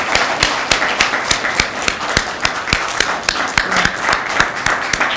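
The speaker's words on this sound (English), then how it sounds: "Please, a round of applause for the CS." A round of applause at a convention media launch, with crisp individual claps standing out in an uneven rhythm over a thinner bed of clapping from a modest crowd, fairly close and loud, with no talk.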